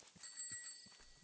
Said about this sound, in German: Ich höre eine Glocke irgendwo hier.